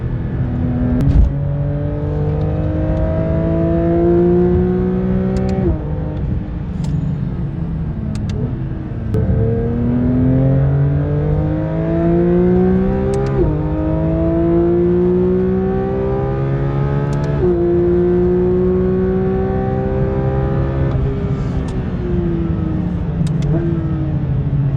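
A Porsche 911 GT3 RS (992) with a naturally aspirated 4-liter flat-six drives hard on a race track, heard loud and close from the cabin as the engine repeatedly climbs in pitch, drops briefly at each upshift, then climbs again.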